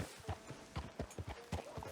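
Horse hooves clip-clop at a steady walking rhythm in Red Dead Redemption 2, soft and fairly distant, with faint background murmur.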